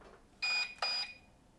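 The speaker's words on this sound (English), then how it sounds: "you have to put the throttle in the high position and down again, and you will hear that beep" A TopRcHobby 402mm mini P39 RC plane gives two short, loud electronic beeps in quick succession after its throttle is pushed high and back down, with faint background hiss.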